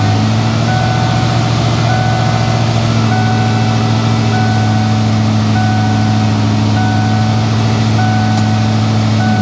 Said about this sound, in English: Neutral, idling up because it's cold.